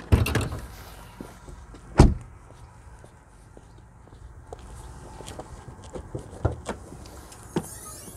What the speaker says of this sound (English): So let's pop the hood, show you what's underneath there.